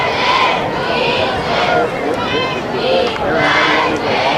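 Football crowd in American Fork stands chanting during a high school game against Pleasant Grove, a dense, steady roar of many voices with rhythmic swells, close and loud throughout.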